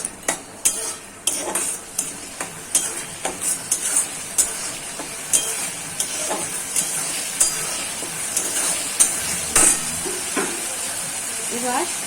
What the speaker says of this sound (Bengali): রসুনের কাঁচা গন্ধটা না ইয়ে করা পর্যন্ত আমাকে পেঁয়াজটা ভেজে নিতে হবে